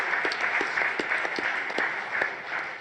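An audience applauds at a speedrunning charity event, a dense burst of many hands clapping at once with a few louder close claps standing out, heard at moderate volume throughout.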